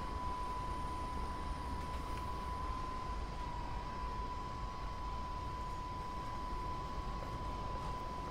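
A regional train hauling mint-green N coaches in the Train Sim World game runs with a steady, even rolling drone and a constant thin high whine, moderately quiet and unbroken, with no voices.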